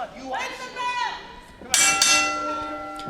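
A ringing bell opens a hardcore Halloween wrestling match, sounding in two sharp strikes that ring on after an announcer's voice.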